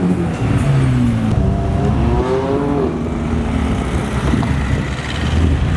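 A McLaren 720 sports car drives past on a street during Monterey Car Week, a loud close engine roar that rises and sweeps by over steady traffic noise, with no talk.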